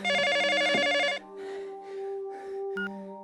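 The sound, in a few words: telephone ringing in a film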